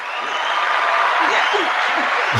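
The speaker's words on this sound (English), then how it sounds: "let's give a round of applause" A round of applause at an online thank-you celebration: a steady, dense wash of clapping that holds evenly throughout, with a faint voice underneath.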